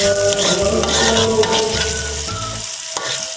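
Rendang spice paste for beef sizzles loudly in hot oil, with close, busy frying crackle and stirring scrapes throughout that ease off slightly toward the end.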